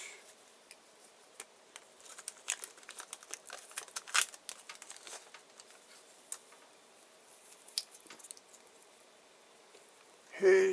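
Packaging for a GMKtec K11 mini PC being cut open at close range, with scattered crinkling, ticking snips and small tearing sounds over a soft room hiss, then a louder thump at the end.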